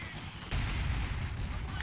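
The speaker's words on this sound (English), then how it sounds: "Infantry support guns bombarding this here" Infantry support guns bombard a position in a WWII Battle for Caen campaign game, a dense, continuous rumble of artillery fire that jumps louder after a sharp onset, with no talk.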